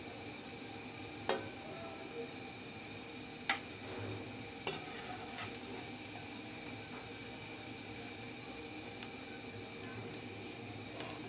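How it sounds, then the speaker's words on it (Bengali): Bread pakoda frying in oil makes a faint, steady hiss, with a few sharp metallic clinks from a utensil early on. "এভাবে করে সবগুলো ভেজে নিব"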